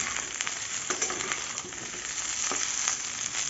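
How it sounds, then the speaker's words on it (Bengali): Mixed vegetables sizzle and fry steadily in a pan, with scattered clinks and scrapes of stirring breaking through the continuous hiss, close and fairly loud with no talking. "এবার সব কিছু একসঙ্গে দিয়ে ভালো করে নেড়ে চেড়ে নেব।"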